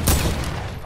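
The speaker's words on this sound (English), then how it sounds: "we got a bunch of gunshots going down over here" Rapid burst of gunfire in Fortnite Battle Royale, a short sharp volley of shots close by, loud and alone.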